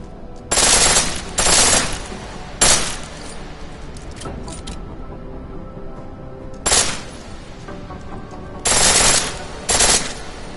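Full-auto gunfire from a PS4 video game rings out in several loud bursts, the longest about a second, separated by gaps of quieter game ambience, with two more bursts near the end.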